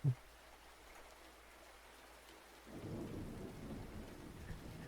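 Thunder and rain as the ambience of a tabletop role-playing session. A short, sharp low crack opens, then a quieter patter builds into a heavier rumbling downpour that swells midway and keeps going steadily.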